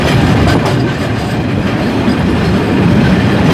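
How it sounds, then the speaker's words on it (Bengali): A loaded container freight train rolls past close by in a loud, steady roar of rumbling wagons and rattling wheels throughout. "এটি একটি মালবাহী ট্রেন দেখতে পাচ্ছেন"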